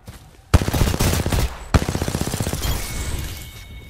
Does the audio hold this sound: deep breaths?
no